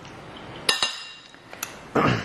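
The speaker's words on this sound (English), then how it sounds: "I'm going to put 1 cup of beef stew into our bowl." A spoon scraping canned beef stew into a bowl, making a few sharp metallic clinks against the dish followed by a wet, soft slop as the stew drops in.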